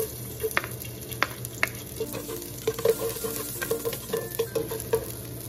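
Garlic sizzles in hot cooking oil in a pot at the start of a turkey sopas, a steady close frying hiss with scattered clicks of a utensil stirring.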